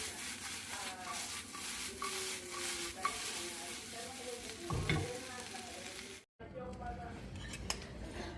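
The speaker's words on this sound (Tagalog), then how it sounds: "nagka-caramelize ako ng onion" Onion caramelizing in a pan, a constant close sizzle with repeated scraping and clinks of a utensil stirring, briefly cutting out before the frying resumes.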